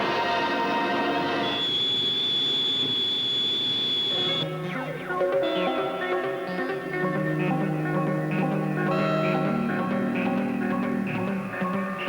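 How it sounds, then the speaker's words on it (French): TGV 001 high-speed test train during its first trials in 1972, a steady rolling rumble with a sustained high whine and shifting tonal hum throughout. "TGV est prêt pour les premiers essais"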